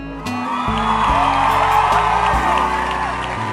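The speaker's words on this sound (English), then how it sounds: "I need to give myself a round of applause" Applause and cheering from a crowd, a loud continuous roar of clapping, whoops and shouts over a steady droning background tone.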